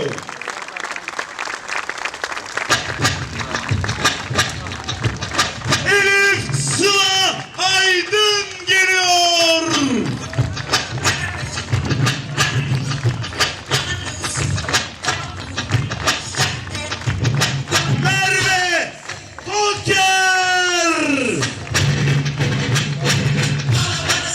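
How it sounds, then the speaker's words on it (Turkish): A crowd celebrating Turkish handball Super League champions claps loudly and steadily, with thuds and whoops, while an announcer's amplified voice speaks over it. "Alkışlar hiç dinmiyor."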